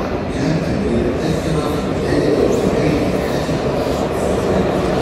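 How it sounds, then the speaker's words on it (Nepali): A metro train pulls into a station in Qatar, a loud steady rumble of wheels and carriages with faint squeals, continuous and close, without speech. "यो ट्रेन आयो"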